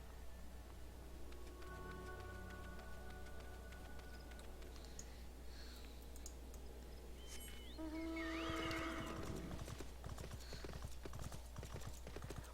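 Small horse mount's hooves clip-clop in a steady rhythm in a video game, with background game music, chimes and occasional sparkly effects mixed in; no talking.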